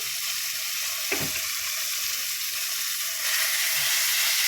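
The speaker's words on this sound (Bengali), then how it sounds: "আমি মশলাটা ভালো করে কষিয়ে নেব।" Spice masala sizzles and fries steadily in a pan for a prawn curry, a continuous close hiss with one brief stir or clink partway through.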